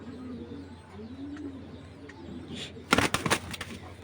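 Giribaz pigeons coo in soft, repeated low rolling calls, close by, followed near the end by a sudden burst of sharp clattering flaps and knocks.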